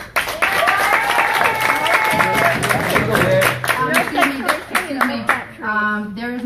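Audience applause breaks out during public comment at a Huntington Park city council meeting, dense and steady clapping from a crowd lasting several seconds and thinning toward the end as voices and a tone come in.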